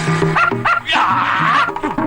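A dog barks and yips in a comedy film scene, several loud, close, voice-like bursts in quick succession with a brief whimpering tone between them.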